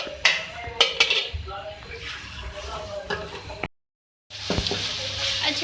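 Beef keema frying in a karahi with a soft sizzle beneath sharp clanks of a metal spoon scraping and stirring, followed by a brief break and renewed clattering with steady frying.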